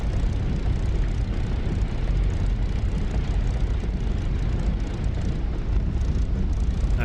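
A P-51 Mustang's piston engine in the DCS flight simulator drones loud and steady at close range, a dense unbroken rumble with no pauses or voices.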